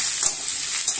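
Soya chunks and fresh vegetables fry in a pan with a little oil: a continuous bright sizzle, close and steady, with faint stirring scrapes.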